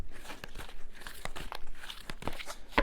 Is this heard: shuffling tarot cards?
yes